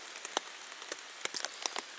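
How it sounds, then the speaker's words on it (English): Night rain falling at about 2 a.m. on a thru-hiking trail, heard as faint, scattered drops tapping irregularly on a nearby surface against a quiet background. "So it's been raining on and off for since about 9 p.m."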